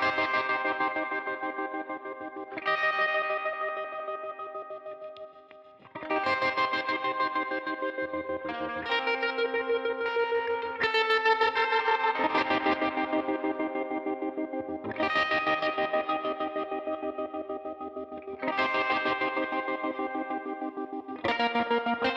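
Electric guitar chords and picked notes, first played dry and then processed with a BX Opto compressor and EQ plugins, sustained phrases with short gaps, clean and upfront with no talk.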